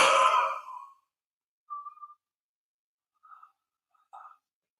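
A slow exhale during a guided breathing exercise, a soft breathy rush that fades out over about a second, followed by quiet gaps and a few brief faint sounds.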